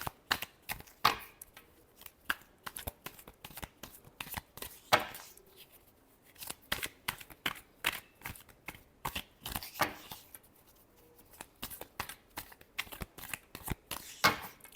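A deck of tarot cards is shuffled repeatedly by hand, dense papery riffles and sharp taps following one another in irregular bursts over about fifteen seconds, close and fairly quiet.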